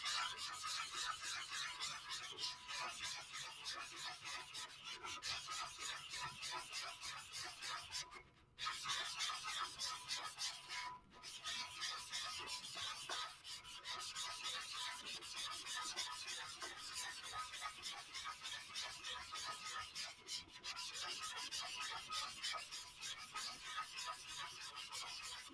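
A tumbler cup is sanded by hand with a continuous soft, raspy rubbing that holds steady and pauses briefly a couple of times, fairly faint and close.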